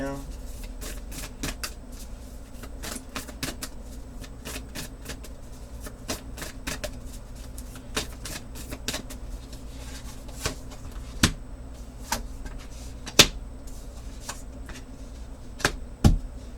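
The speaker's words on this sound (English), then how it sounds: "I'm going to have to find maybe a new way of shuffling that works." Repeated crisp tarot card shuffles and riffles, sharp clicking bursts at irregular intervals over a low steady background hum.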